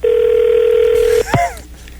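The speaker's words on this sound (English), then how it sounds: "Can I get the phone ring?" A telephone tone sound effect on a late-night radio call-in show: one steady electronic tone holds for just over a second, then cuts off as a voice breaks in briefly.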